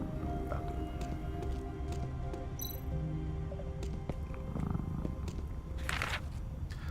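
A sleeping cat in the video game Tales of the Neon Sea purrs and snores steadily, a low continuous rumble over a busy ambient game backdrop, with a faint brighter hiss rising near the end.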